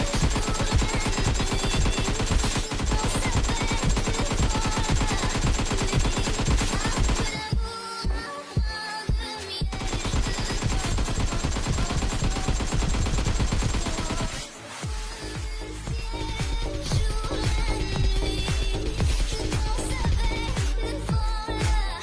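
Gunfire in the Free Fire video game: dense, continuous bursts of automatic shooting and rapid shots over a busy game soundtrack, with brief dips in the barrage, loud and steady throughout.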